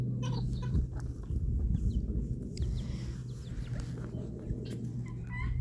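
Backyard chickens and guineas drinking beet water outdoors, with soft, steady low clucking and murmuring close by throughout, a few louder bursts standing out over the flock's continuous chatter.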